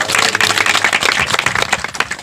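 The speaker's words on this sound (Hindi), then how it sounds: "ताली बजा के उसकी महिमा करें।" A church congregation claps their hands together in a dense, steady burst of applause filling the room, continuous and loud for a couple of seconds with no talking over it.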